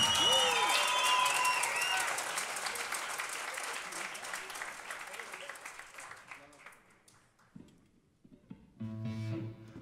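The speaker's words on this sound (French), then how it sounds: "bonne main d'applaudissement pour Nathan au drum aussi" Audience applause at a live concert fills the room loudly and then thins out and fades, with a voice speaking over it and a brief musical sound at the end.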